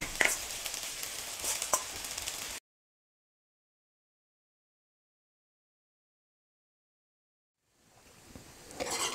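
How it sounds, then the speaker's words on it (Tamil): Cooked rice being stirred into fried eggplant in a pan, with a few seconds of close scraping and soft sizzling at the start, a long silent gap, then stirring resuming near the end. "இப்போ நான் வடித்து வச்சுருக்கிற சாதத்தை சேர்த்து மிக்ஸ் பண்ணிக்கிறேன்."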